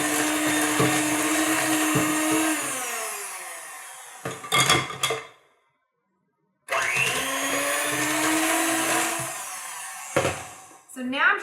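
An electric mixer whirs loudly while blending sugar into foaming body butter, running in two long bursts with a short silent pause between them and faint scraping clatter near the stops.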